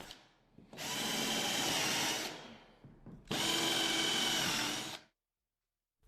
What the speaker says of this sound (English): insert them into each pre-drilled hole using a screwdriver or drill machine